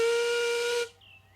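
A steam locomotive whistle lets off one loud, sustained blast for under a second, then cuts off, leaving a faint hiss and low rumble behind.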